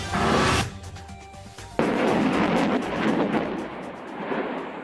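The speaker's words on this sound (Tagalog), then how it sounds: "Dagundong yan mula sa pinaputok na High Mobility Artillery Rocket System o HIMARS ng Estados Unidos." A United States HIMARS rocket launcher fires during a live-fire drill in Nueva Ecija, a loud broadband rumbling blast that drops back and then surges again into a sustained roaring thunder that lingers without fading.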